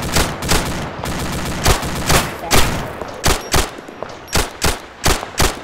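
Sustained gunfire in the Arma 2 video game, loud close shots in an irregular rhythm, rapid strings at first, then spaced single cracks and short bursts over a constant background rumble.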